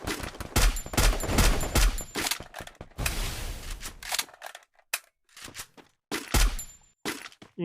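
Rapid gunfire from a shooting video game, with dense bursts of automatic shots followed by scattered single cracks and short volleys, loud and close, and no talk.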